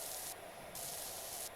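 Steady hissing spray from a pressure washer in a power washing simulator game, continuous broadband jet noise with a bright upper hiss that cuts in and out as the nozzle sweeps, no voices.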